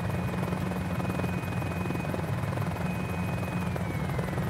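A Mini-500 helicopter engine shuts down after landing, giving a loud, steady, close droning whine whose pitch sags slightly toward the end. No one speaks.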